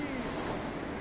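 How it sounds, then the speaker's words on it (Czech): Powerful waves break on a stormy, windy beach, a loud continuous roar of surf mixed with wind buffeting the microphone, brief and with no talk. "mohutné vlny, to podají!"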